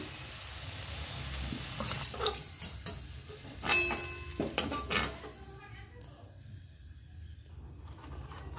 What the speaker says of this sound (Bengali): এই তেলেই আমি পটলগুলো ভেজে নিচ্ছি।